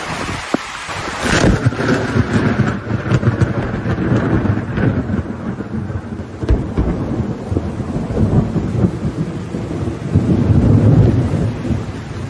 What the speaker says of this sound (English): 2 fishermen chose to cast their lines in the middle of a thunderstorm